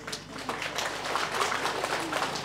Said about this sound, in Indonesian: tepuk tangan dulu yang ketiga